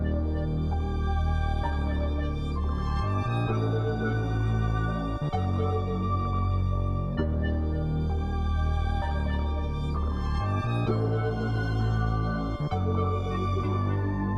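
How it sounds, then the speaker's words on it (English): A string sample played back at double speed, looping bright sustained string chords over a heavy low bass pulse in repeating bars, loud and continuous with no voices, in a trap beat. "And again with this string sound,"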